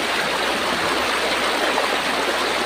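A rushing stream pours steadily and loudly where people are bathing, a dense unbroken wash of water with no voices.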